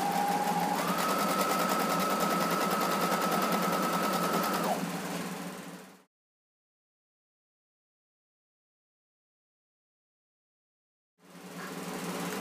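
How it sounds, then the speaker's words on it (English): A sewing machine runs a straight seam down a flowing, full garment, whirring steadily and close for several seconds before it stops; after a long silence the motor starts up again. "this is it, just sewing straight down."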